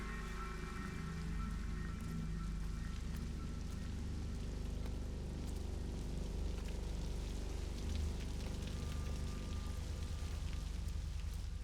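Steady rain falls in an Xbox Series X video game, a dense, even hiss of drops pattering on surfaces that runs unbroken throughout with no voices.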